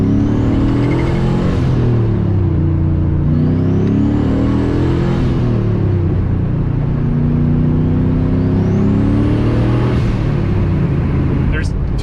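A sleeper car with a newly fitted 2000-horsepower-capable fuel system revs hard and loud up close, its engine note sweeping up and down in repeated surges before a brief clatter at the end.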